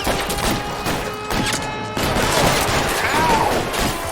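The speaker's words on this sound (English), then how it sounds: "Oh, somebody's shooting me." Bursts of gunfire are aimed at the player in L.A. Noire, rapid cracks and thumps in quick volleys over a dense, noisy game soundscape, with a whistling sweep near the end.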